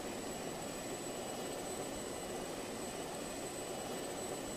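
Airplane engine from the video game Just Cause 2, a steady unbroken roar that holds at constant loudness throughout, like an aircraft flying level at speed.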